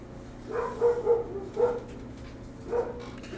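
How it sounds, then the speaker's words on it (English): Dogs bark in a few short, separate bursts, moderately close, with quiet pauses between the barks and no talking. "I'm glad they're barking."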